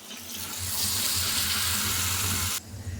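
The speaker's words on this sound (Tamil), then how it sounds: "மாவாக்கி அப்படியே நம்ம எண்ணெயில் போட்டு பிரட்டி எடுக்க வேண்டியதான்" Dough snacks fry in hot oil with a loud, dense, steady sizzling hiss that stops abruptly near the end.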